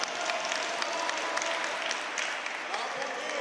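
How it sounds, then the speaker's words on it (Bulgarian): Applause from a small crowd in a futsal hall during a match, a steady dense wash of clapping with a commentator talking over it throughout. "аплодисменти, въпреки така малобройните за тук в зала Владислав"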